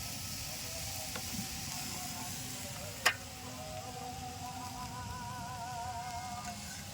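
Potatoes stir-fried in oil with onion and chili in a village kitchen on a rainy night, a steady soft sizzle with a few light scrapes and one sharp clack, close, with no talking.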